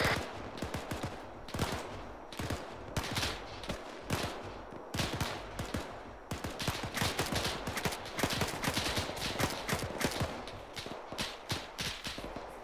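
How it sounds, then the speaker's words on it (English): Incoming gunfire in a World War II video game: dense bursts of rapid shots and machine-gun fire crackle continuously, some close and sharp, others farther off, with no pause throughout. "Incoming shots."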